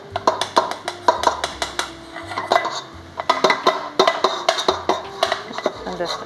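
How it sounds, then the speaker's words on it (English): Bread flour tipped into a stand mixer bowl for a chicken sandwich dough, giving a run of light taps, scrapes and clinks against the bowl in an uneven rhythm, close by, with talk over parts of it. "So she's putting in the bread flour."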